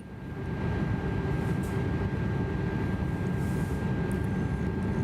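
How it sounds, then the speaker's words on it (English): Inibuilds A330 airliner in MSFS 2024 extending its flaps, a steady mechanical whine over a dense, unbroken cabin and engine drone that swells in at the start and holds. "Flaps are dropping."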